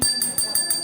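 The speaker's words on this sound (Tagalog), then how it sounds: "Ready yung bell natin?" A small bell rung in a food and beverage service workshop to start a restaurant role-play, a quick series of about five bright rings in even rhythm, close and clear.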